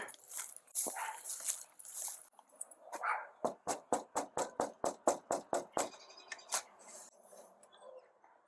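Dogs bark and whimper close by at a home: scattered yelps and whines open, then a fast run of about a dozen sharp rhythmic barks, trailing off into a few more whimpers.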